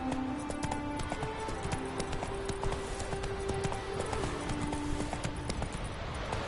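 A horse gallops in The Witcher 3 video game, its hooves beating a fast, continuous clip-clop rhythm at moderate volume over a low game soundtrack, with no one speaking.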